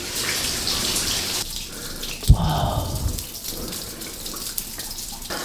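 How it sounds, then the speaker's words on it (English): Water trickles and drips inside a New Zealand cave, a close, echoing patter with one sharp knock midway and a brief exclamation from a person. "The sounds of the water."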